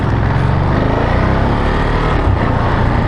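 A Ducati Monster motorcycle rides in first gear at about 30 km/h, its engine a steady, loud, close-up drone with wind rush throughout and no one talking.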